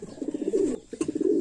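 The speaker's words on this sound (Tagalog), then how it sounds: "Oh, kagandang ibon oh." Pigeons coo in a racing pigeon loft, a short close run of soft rhythmic low coos that pauses briefly and resumes, with no talking.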